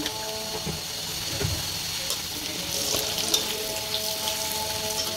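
Potatoes fry in oil in a pan with a steady, moderate sizzle and occasional crackles and pops, some faint background noise underneath.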